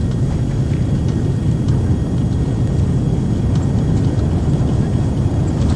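Beechcraft Premier 1A jet rolling for takeoff in the X-Plane 11 flight simulator, a dense, steady low engine roar with rumbling runway noise, loud and unbroken, with no voices.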